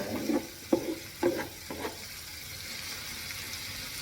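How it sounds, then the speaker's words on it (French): Mushrooms frying in a spoonful of olive oil in a pan for mini pizzas, with a few soft stirring scrapes and short sizzling bursts early on, then a steady low hiss of oil alone. "je vais faire revenir quelques minutes"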